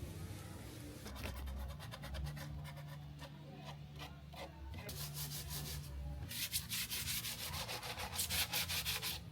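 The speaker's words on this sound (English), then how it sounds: "Now we're sanding down." Wooden furniture is sanded by hand in a continuous, rough rasping scrub. Bursts of faster back-and-forth strokes come and go, close and fairly loud throughout.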